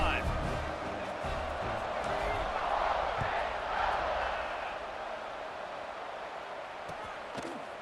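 Stadium crowd roar from a college football video game, a broad steady wash of cheering at moderate loudness after a scoring drive, swelling slightly midway then settling, with faint commentary voices underneath.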